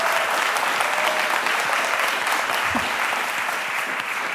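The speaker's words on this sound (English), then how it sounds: "Yes, a round of applause for that." Sustained, even applause from an audience at a Radcliffe Institute event on Title IX, a full room clapping steadily throughout with no pause.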